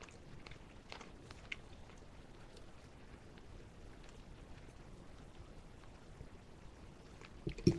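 Chewing squeaky garlic Moo-La-La baked cheese, browned on the edges, gives a close, steady run of soft crackly mouth noises and faint squeaks, with a louder bite near the end.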